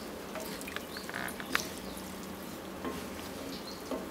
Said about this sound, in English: toss this around while the onions are still cooking